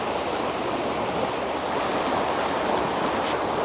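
Broadband rushing of river water flowing steadily outdoors, a continuous near wash of current over rocks with no pauses and no voices, loud and even throughout.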